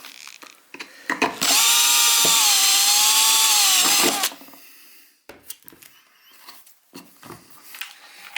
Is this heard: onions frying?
no